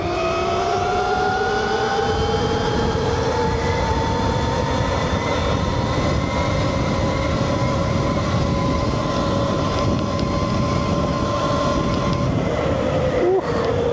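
A 72V Rawrr Mantis X electric dirt bike climbs uphill in race mode, its motor giving a steady rising whine under continuous wind rush throughout.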